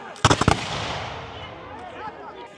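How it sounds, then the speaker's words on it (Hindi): Muskets fire at a War of 1812 battle reenactment, with a quick cluster of three or four sharp, loud reports followed by a rolling echo, while someone narrates. "इधर से भी फायरिंग हो रही है, इधर से ये फायरिंग."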